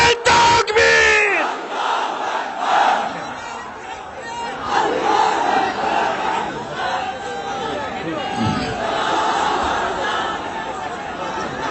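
Large crowd at a Bangladeshi Islamic political rally chanting the Takbir in unison, a loud sustained roar of many voices with yelled peaks, following a sharp leader's call.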